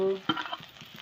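Soft sizzle and a stirring scrape of potatoes, onion and green chili frying in oil in a wok, quiet and brief.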